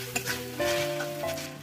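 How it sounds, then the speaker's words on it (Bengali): Ginger garlic paste frying with onion and tomato in a pan, a brief close sizzle with stirring scrapes and a faint tonal hum underneath. "পেঁয়াজ টমেটোর সাথে আদা রসুনটা ভেজে দিচ্ছি"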